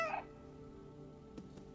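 A person imitates a cat with a short, faint, high meow at the very start, followed by a quiet steady hum and a couple of soft knocks.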